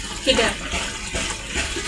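Supply water runs from a tap in a village home, a close, continuous splashing gush, with a voice briefly heard alongside it.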